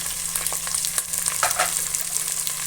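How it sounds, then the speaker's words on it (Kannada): Carrots and potatoes frying in a pan for palak paneer pulao, a steady close sizzle with small crackles and light stirring throughout, no voices. "ಮತ್ತು ಕ್ಯಾರೆಟ್ ಹಾಕ್ತಾಯಿದ್ದೀನಿ"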